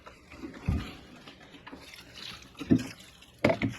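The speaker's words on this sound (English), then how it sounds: "I think I'm gonna do a little bit of watering just down here." Water poured onto a worm tower compost bin holding red wigglers, a few soft splashes and trickles in uneven bursts, fairly close and quiet, with no voices.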